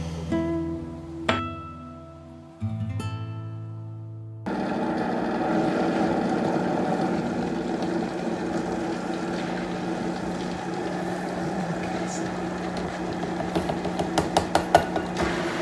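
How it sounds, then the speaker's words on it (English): A blender whirs continuously as it purees custard with butternut squash, cinnamon, ground ginger, vanilla, brown sugar and añejo tequila, following a couple of short knocks and a brief start, then running steady and loud. "put the custard into a blender cup, and then we're going to add the butternut squash, cinnamon and ground ginger, a little vanilla, some brown sugar"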